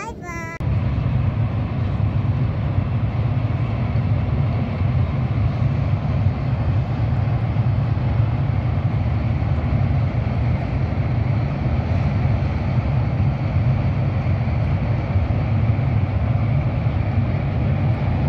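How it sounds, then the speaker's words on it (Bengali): A train crossing the Padma bridge, heard as a loud, continuous low rumble and roar that holds steady throughout, after a brief start with a voice. "ট্রেন যাচ্ছে।"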